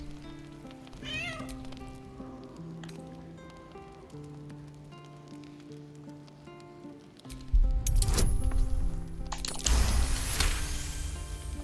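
A cat meowing in Baldur's Gate III: a short rising-falling meow early on over soft ambient tones, followed later by louder bursts of rain-like hiss and clatter.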